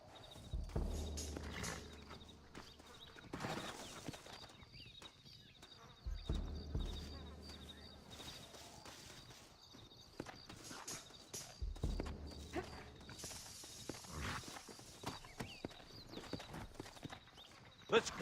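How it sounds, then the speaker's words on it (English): Horse hooves clip-clop at a slow walk in the video game Red Dead Redemption, rhythmic and fairly faint, mixed with game ambience and occasional louder rumbles. "Looks like Carlos left us some horses."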